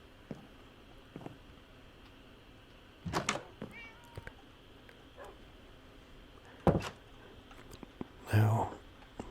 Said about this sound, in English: there's my 2 dogs and my cat